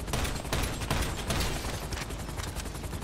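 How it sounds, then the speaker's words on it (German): Gunfire at a car window in GTA 5, a loud, dense, continuous burst of rapid shots filling the whole moment with no pause, close up. "Warte mal, lass mich auf die andere Scheibe schießen."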